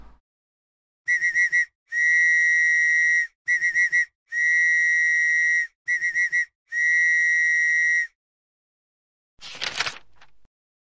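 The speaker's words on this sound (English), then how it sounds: "I will blow my whistle one more time" A whistle is blown in a series of shrill blasts, some short and trilling and others long and steady, loud and near, with silence between them. A brief rustle comes near the end.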